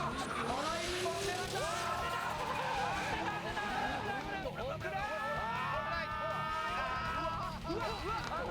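D1 Grand Prix drift competition run, likely in a Toyota Supra, with engines wailing and rising and falling as tires squeal under a busy crowd and commentary, heard from a distance and continuous throughout.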